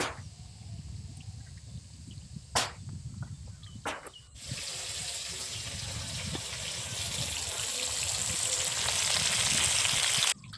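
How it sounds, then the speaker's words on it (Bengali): Hilsa fish pieces, rubbed with salt and turmeric, frying in hot oil: a few sharp bursts as pieces drop in, then a loud, steady hissing sizzle that swells and holds without any talk. "মাছগুলো এক এক করে ভেজে নেব।"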